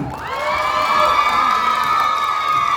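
An audience at a live legend stage show cheers and shouts, a loud continuous crowd roar with high-pitched children's shrieks and whistles woven through it.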